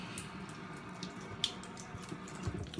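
Water from a tap rinsing slurry off a soft Japanese natural sharpening stone used to refresh a kamisori razor, a quiet steady trickle and splash with faint drips, heard alone.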